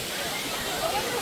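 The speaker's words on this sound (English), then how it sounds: "Look at this waterfall." A waterfall at a scenic spot with a few people around gives a steady, fairly faint rushing hiss, heard briefly under light background chatter.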